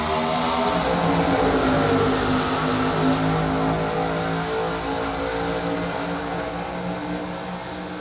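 A loud, dense pack of race cars accelerates together on the green-flag restart of Race 28 of the MG Cup Series at Charlotte, a steady layered engine roar holding for the whole stretch without speech.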